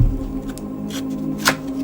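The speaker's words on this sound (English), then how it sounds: "Let me give this a real good shuffle real quick." Tarot cards being shuffled by hand, a steady papery riffling rustle with a sharper snap near the end, close and fairly loud with no talk.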